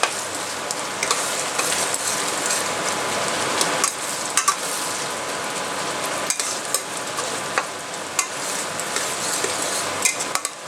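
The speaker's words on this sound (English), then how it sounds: "Continue to stir in medium flame so that the garlic doesn't burn. So fry it nicely." Garlic and mutton fried over medium flame while being stirred in a pan, a continuous hissing sizzle with frequent metallic clinks and scrapes of the spoon, close and without talk.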